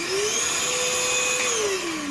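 An Einhell TE-VC 18/10 Li-Solo cordless wet and dry vacuum cleaner runs steadily up close, a constant motor whine with a high tonal hum and airy rush that dips slightly in pitch near the end.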